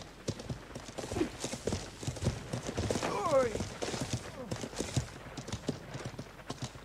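Horse hooves clip-clop steadily in the medieval MMO game Life is Feudal, a brisk rhythmic trot close by, with a brief whinny midway and voices talking over it.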